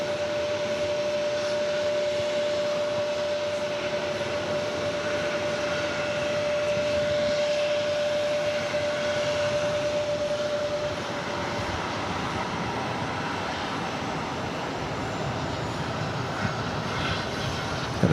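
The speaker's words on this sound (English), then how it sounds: "Got another KLM flight touching down, 22 right, 22 left." A KLM jet airliner touching down on runway 22 at JFK airport, heard as a broad, sustained engine roar with a steady whine that fades and shifts partway through; no voices.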